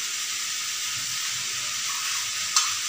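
Thuthuvalai and egg stir-fry sizzles in a pan with dried red chillies, a steady, loud hiss of frying with one brief clink near the end and no talking.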